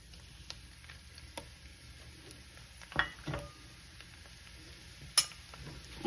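Shredded vegan haleem being stirred in a cooking pot: faint, sparse scrapes and soft clinks of a utensil against the pot over a quiet background.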